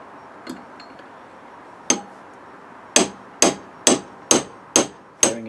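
Hammer taps press a bearing into a salvaged oscillating sander: one faint tap, then seven sharp metallic strikes at a steady, quickening rhythm, close and clear with ringing decay.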